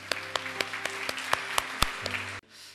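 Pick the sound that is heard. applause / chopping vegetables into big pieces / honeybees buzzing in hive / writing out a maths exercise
applause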